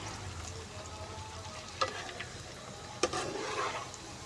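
Moong dal pakoras fry in hot oil with a steady, soft sizzle and bubbling, broken by two sharp clinks of a utensil, close and alone without talk.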